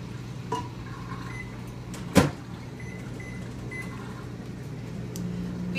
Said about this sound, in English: I'm going to put it in the microwave for 15 seconds